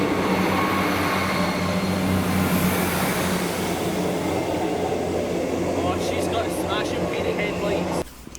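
Rail Operations Group Class 57 locomotive 57312 arriving at South Gyle station, a steady loud rumble of engine and wheels that holds throughout, with a person talking over it, then cutting off near the end.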